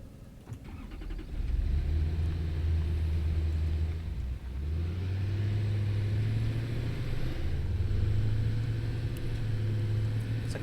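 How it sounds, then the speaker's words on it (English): A loud truck engine rumbles steadily while climbing a hill, a continuous low drone with slight pitch shifts under load, close and dominant throughout. "And Jesus, this truck is loud."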